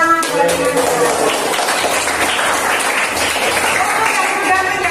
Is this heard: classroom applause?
yes